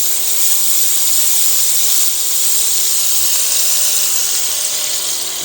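Butter and lemon juice sizzle steadily and loudly in a hot skillet that has just been switched off, while a seafood dish cooks; the hiss stays even throughout with no talking.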